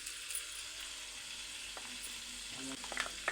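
Whole garam masala spices, including shahi jeera and cinnamon sticks, fry in hot oil. A soft, continuous sizzle carries a few light stirring scrapes toward the end.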